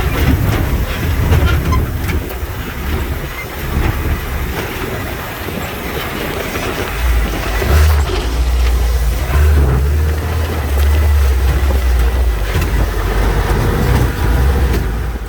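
An off-road vehicle grinds down a rocky waterfall section on a Baja trail, with loud continuous rattling and clattering over rocks and a heavier low engine rumble swelling in the second half, no voices.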